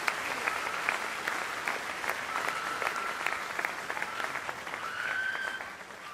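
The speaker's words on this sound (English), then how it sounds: "Give a hand clap to the Lord." A congregation at a church worship service in Sarcelles claps their hands in praise. Many hands produce a steady, sharp, rhythmic clapping that is sustained over several seconds and then eases slightly near the end, with faint voices underneath.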